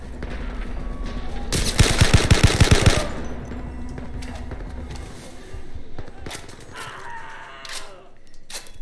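Gunfire in the virtual reality shooter Zero Caliber: a loud rapid burst of automatic shots lasting over a second, then quieter clicks and handling noises as a voice talks.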